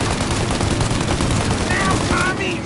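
Dense, continuous gunfire in Mafia: Definitive Edition, rapid overlapping shots and bursts filling the scene at close range and high volume, with a shouted voice faintly under the barrage.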